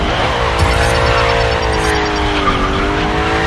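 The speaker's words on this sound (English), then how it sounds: "Oh, I just got an awesome drift." A car drifts through a corner in the GRID Legends racing game, its tires squealing in a long sustained screech over the engine drone, loud and close, with no talk.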